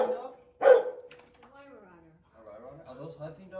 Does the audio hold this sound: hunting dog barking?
yes